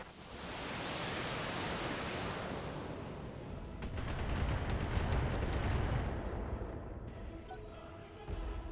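Mech weapon fire with a breaching shot in BattleTech: a long rushing blast of noise that fades, then a second heavy roar with rapid crackling impacts and a sharp metallic ring, loud and close.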